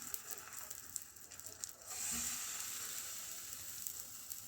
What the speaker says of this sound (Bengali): গরম তেলের উপরে আমি ময়দাটাকে দিয়ে দিলাম।